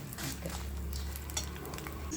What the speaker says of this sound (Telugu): ఆ వేడికి ఆవాలు కూడా పట్టుపట్లాడుతున్నాయి.